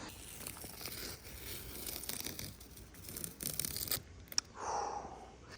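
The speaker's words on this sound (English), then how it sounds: "we are now going to pull this tape off and see what we are working with" Masking tape is peeled off fresh motorcycle paintwork with faint, close tearing and crinkling sounds, brief rips and rustles of the crumpled tape, and a small sharp click near the end.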